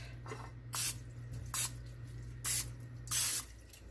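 Four short bursts from a can of cooking spray, evenly spaced hisses over a quiet background hum.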